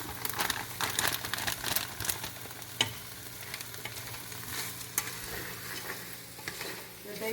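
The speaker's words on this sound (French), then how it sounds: "Maintenant, je vais ajouter environ 1 tasse et demie de maïs congelé." Frozen corn goes into a frying pan and gets stirred, making an irregular crackle and sizzle with scraping, scattered clicks of the utensil, and fairly close, moderate loudness without talk.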